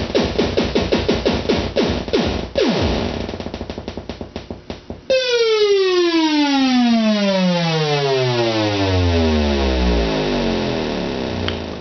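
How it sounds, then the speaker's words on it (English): Analog synthesizer tone under sawtooth LFO modulation, loud and alone, first pulsing in rapid repeating ramps, then a long series of parallel falling pitch sweeps. "The sawtooth's pretty cool, it sounds kind of like a bass drum."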